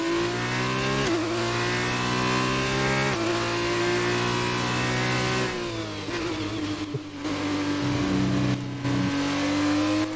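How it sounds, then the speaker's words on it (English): F2 race car engine from the F1 2019 video game revs continuously at high pitch with a ringing tone, rising and dipping through gear changes, loud and steady throughout with no talking. "I feel like the F2 engine's kind of got that ring sound"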